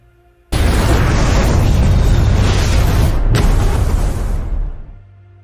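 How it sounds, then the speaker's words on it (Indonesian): A film explosion destroying a laboratory erupts suddenly as a loud, sustained roaring blast that rumbles for several seconds, briefly breaks, then fades out. "para anggota Spectre kemudian menculik Profesor Valdo dan langsung meledakkan laboratorium tersebut sebelum pergi meninggalkannya"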